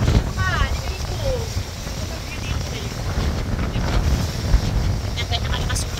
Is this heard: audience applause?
no